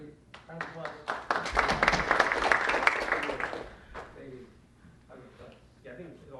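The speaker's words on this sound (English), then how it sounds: "Round of applause." An audience breaks into a round of applause at a reopening event in Chicago, a dense burst of clapping that swells for a few seconds and then fades while voices carry on talking around it.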